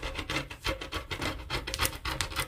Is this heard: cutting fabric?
yes